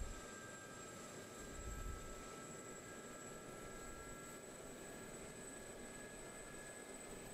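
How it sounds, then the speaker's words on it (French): Gazelle helicopter engine idling steadily in the DCS flight simulator, a continuous turbine whine with a low rumbling drone, even and unbroken throughout. "Donc voilà, le moteur tourne."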